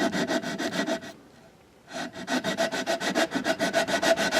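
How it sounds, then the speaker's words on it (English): Hand sanding of a wooden box piece with a 60-grit sanding belt gives a loud, rhythmic back-and-forth rasp, with regular strokes, a pause of about a second, then faster repeated strokes up close with no talking. "I'm just going to sand it."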